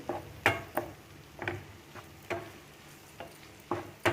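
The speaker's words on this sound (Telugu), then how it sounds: "తిప్పుకుంటూ ఉండాలి కూరని కింద మీద తిప్పాలి" A ladle stirs bitter gourd and onion fry in a pan, scraping in regular strokes about every half second. Each stroke is a sharp, fairly close clatter over a faint background sizzle, and no one speaks.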